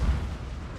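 Artillery fire in the strategy game Fall of the Dragon Empire, a deep low rumbling boom rolling out over a short stretch with no talk.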